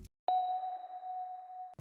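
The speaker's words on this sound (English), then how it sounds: "Start off with a weird sort of bell hit." A single electronic bell tone strikes once and rings as a pure, steady sustained note before cutting off abruptly.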